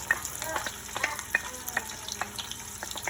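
Onions frying in oil in a cooking pot for a Nigerian vegetable soup with goat meat, a steady soft crackle broken by repeated close scrapes and clinks of stirring.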